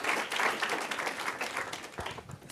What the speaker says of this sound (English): Let's give a huge round of applause to Francis.